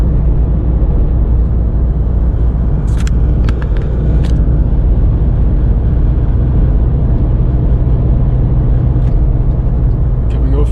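A bakkie pickup truck drives along a freeway with a steady, loud engine and road rumble throughout, a continuous drone that never lets up, with a few brief higher clicks and rattles early on.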